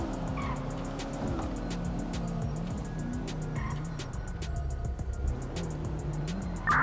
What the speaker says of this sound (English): Can I drift? Oh, yeah, you can drift.